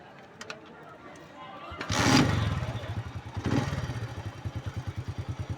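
A motorcycle starts up and pulls away slowly in first gear, its engine rising in two loud revving surges before settling into a steady, close, rhythmic putter.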